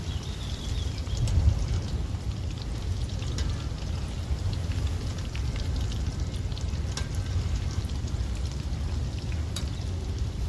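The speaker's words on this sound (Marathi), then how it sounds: "तर आता मी चिकन चांगलं तळून घेणार आहे" Chicken pakoda pieces fry in hot oil with a steady, dense sizzle and crackle that stays loud and even throughout, with no voices.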